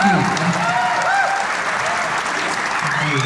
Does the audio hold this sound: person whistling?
no